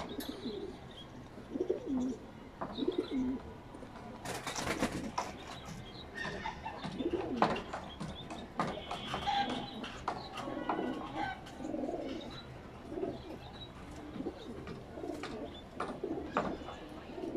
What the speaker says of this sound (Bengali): খুব ভালো লাগলো আপনার লফটে কবুতর